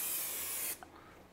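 TC49 spray adhesive hisses from the can onto paper from 20 to 30 cm away, a loud steady spray lasting under a second that cuts off abruptly, followed by a faint click.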